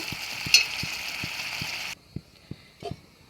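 Onion paste with chili and cumin powder sautés for a fish curry, giving a bright, close sizzle. A spoon scrapes the pan with regular soft thumps, and the hiss stops suddenly, leaving only a few stirring knocks.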